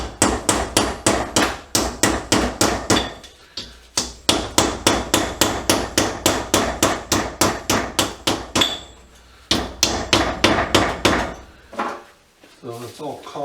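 Hammer blows knock a fuse body off a copper inverter fuse in a shed: rapid runs of sharp metallic strikes, close and loud, broken by brief pauses before the pounding resumes.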